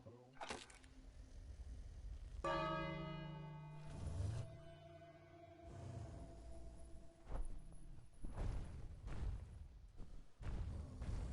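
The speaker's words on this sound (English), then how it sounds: "Ring the bell." A bell rung in the King's Quest game, its long tone holding with a stack of steady overtones that ring out for a couple of seconds, followed by thuds and muffled game sounds.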